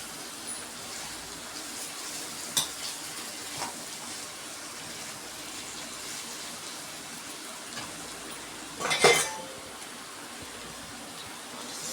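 Potato fry with chili powder sizzles steadily in a pan as a ladle stirs it, with a soft continuous crackle broken by a couple of brief scraping clinks of the ladle against the pan.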